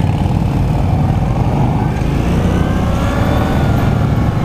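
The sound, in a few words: Victory Octane motorcycle accelerating from a stop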